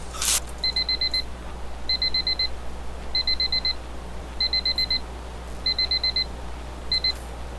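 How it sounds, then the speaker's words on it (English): A timer alarm beeps in quick bursts of about five electronic beeps each, repeating six times at an even pace over a low background hum, with no talking. "That was my timer."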